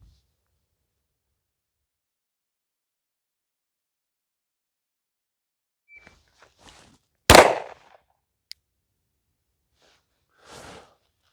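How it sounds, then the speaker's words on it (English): A single handgun shot fired at a paper target from the 10-yard line cracks out sharp and loud after a long quiet stretch, with a few faint shuffles and small knocks around it. "We're gonna shoot at the same target."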